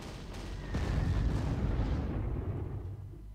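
Bombing explosions in the Panzer Corps strategy video game: a heavy rumbling blast swells after a sharp onset, then slowly fades out over a few seconds, with no talking.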